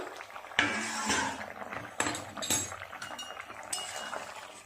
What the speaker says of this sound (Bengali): ঢাকা খুলে দেখব সবজিগুলো কতটা সিদ্ধ হলো।